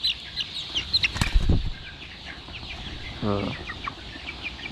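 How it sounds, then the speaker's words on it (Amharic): Chickens clucking nearby with a brief burst of wing flapping early on, followed by a low drawn-out call and scattered clucks. "በጣም ታምሪያለሽ፣ ግን በጣም ትረብሻላችሁ እናንተ ዶሮች።"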